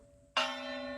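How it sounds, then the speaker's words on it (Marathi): A single church bell strikes suddenly after a quiet dawn moment, its bright metallic tone ringing and sustaining without decay. "चर्चच्या घंटा,"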